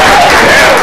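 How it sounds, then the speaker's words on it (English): A studio audience at a 2001 live talk show breaks into brief, dense applause, loud and close, a wash of clapping with a hint of voices. "Audience applause."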